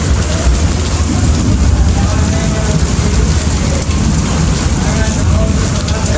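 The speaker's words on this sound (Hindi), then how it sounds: "ये आप शोर सुन सकते हैं बारिश का" Heavy rain pours steadily in Lahore, a dense, loud, unbroken hiss of drops drumming on surfaces that fills the whole stretch without pause.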